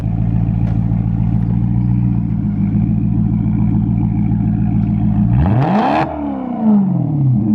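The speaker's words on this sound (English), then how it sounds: "give a thumbs up for a straight piped Maserati Granturismo, 2008 model" A straight-piped 2008 Maserati GranTurismo idles with a loud, steady rumble near the mic. Near the end it gives one sharp rev that rises and falls.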